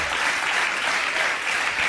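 Studio audience applause at a Serbian late-night talk show, a dense, steady wash of clapping that holds evenly for the whole stretch, close and loud with no voices over it.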